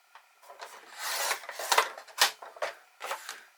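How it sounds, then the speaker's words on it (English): A piece of wood is trimmed by hand with a series of short, close rasping strokes, each a scratchy burst separated by brief pauses, about eight strokes in quick irregular rhythm. "I'm going to trim this a little because it's not quite perfectly straight"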